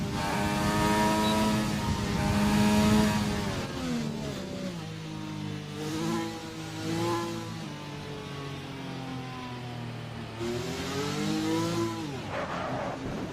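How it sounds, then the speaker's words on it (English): A race car engine in a racing video game, stuck with a failing gearbox and unable to reach 8th gear, revs high in repeated whining surges that rise, hold and dip, loud and alone. "It's revving very high and not going up to 8th gear."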